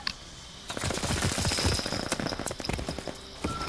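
Dense rapid gunfire in the video game Call of Duty: Vanguard, with fast overlapping bursts and sharp cracks packed close together, loud and continuous for a few seconds.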